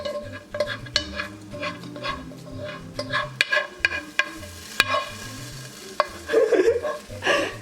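Egg frying and sizzling in a pan while omurice is made, a steady crackling hiss with stirring and scraping taps, bright clinks and a burst of louder sizzle near the end.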